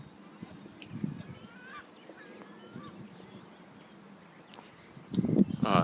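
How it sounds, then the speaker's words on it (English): Geese or other waterfowl honk and call faintly in the background of a dune landscape near the Hague, soft and distant, with louder wind or handling noise near the end. "You can hear the birds in the background"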